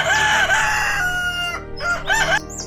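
Chickens cluck loudly and close by as a rooster crows in long, wavering calls that rise and fall, followed by a shorter second crow.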